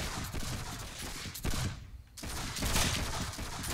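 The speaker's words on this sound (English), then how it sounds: "And someone already got blasted by those cannons. I heard that shot." A dense barrage of musket gunfire and cannon shots crackles in a Caribbean battle video game, with volleys that pause briefly and then resume loud and close.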